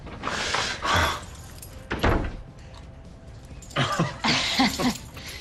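Keys jangle in a couple of close, bright bursts, with a thudding door-like knock between them against a quiet indoor background.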